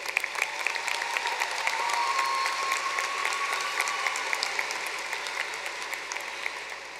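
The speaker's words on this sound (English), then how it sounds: "let's give them a hand" Commencement audience at a spring college graduation ceremony applauding graduates' friends and families, a dense, sustained wash of many hands clapping that swells slightly and then holds steady throughout.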